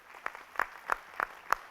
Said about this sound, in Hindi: हम भी बजाएं ताली